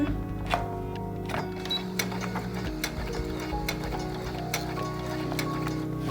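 A sewing machine stitching a seam and back-tacking at the end, close and loud, with a rapid mechanical clatter, shifting motor pitch and sharp ticks as it reverses, no talking.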